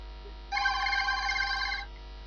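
A mobile phone ringing indoors, a bright electronic trill lasting just over a second at moderate volume against a quiet background hum, with no one speaking.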